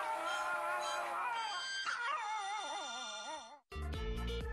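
A dog howls loudly along to music, its long wavering, rising and falling howls riding over the melody before a short silence and then a different stretch of music.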